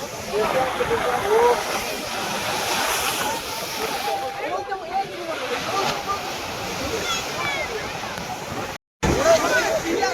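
Rough sea surf at Digha beach roars and washes continuously, loud and broad, with churning water throughout and a brief gap near the end.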